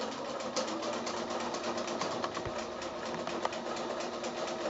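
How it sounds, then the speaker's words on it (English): A sewing machine double-stitches back over a short stretch of a quilt block, running as a steady, dense mechanical whir with fast even stitching throughout, close up and with no talk. "I'm actually just going to double stitch back over that little area there so that I can come down"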